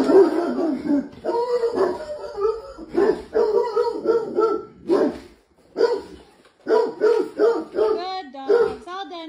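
A dog barks, yips and whimpers in short repeated bursts throughout, close and fairly loud, with a person talking in between.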